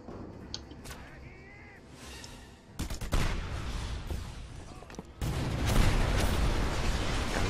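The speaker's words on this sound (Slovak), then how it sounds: "Strieľa." Gunfire in the video game Just Cause 2: bursts of shots and booming blasts, quiet at first and then growing louder and denser in the second half, with a dense rumble continuing under them.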